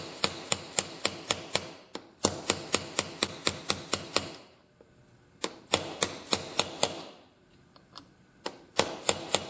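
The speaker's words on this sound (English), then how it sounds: "I'm just straightening that tab out." Metal tab being straightened on a Suzuki TS50 engine during a rebuild, struck in quick runs of sharp, evenly spaced taps with brief pauses between bursts, close and clear with no talking.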